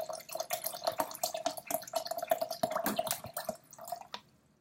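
Water glugs and splashes steadily as it pours from a bottle, a continuous bubbly gurgle that tapers off at the end.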